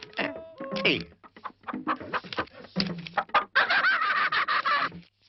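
Chickens cluck and squawk in irregular, overlapping bursts at close range, with scattered sharp calls building into a denser flurry toward the end.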